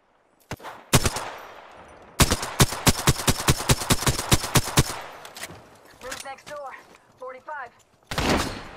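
Video game gunfire comes in bursts: a few single shots, then a long rapid automatic volley, with sharp clicks and mechanical reload sounds afterward and a final loud burst, all close and punchy.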